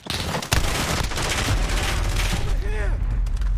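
Dense, rapid gunfire and blasts from the Modern Warfare shooter game, bursts overlapping loudly and continuously, with no talk.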